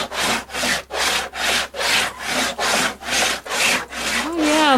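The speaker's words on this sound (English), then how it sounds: "let's take a little scrubber and see how it's doing." A handheld scrubber worked back and forth over an item soaked in pure vinegar, about ten even, rhythmic rasping strokes, close and fairly loud, with no talking.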